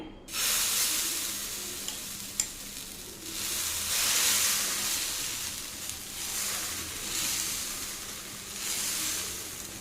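Soya adai batter spread on a hot pan over medium heat sizzles and hisses steadily close by, swelling and easing in gentle waves with a single soft clink early on.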